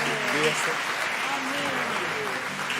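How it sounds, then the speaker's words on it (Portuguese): Applause from a church congregation fills the space as a broad, steady wash of clapping, with a few voices talking over it throughout. "Vamos aplaudir a Pati aqui"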